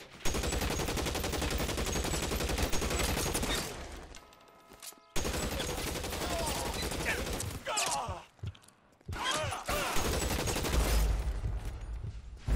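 Rapid bursts of gunfire in the video game L.A. Noire crackle loudly in dense volleys, broken by short pauses between the shooting spells.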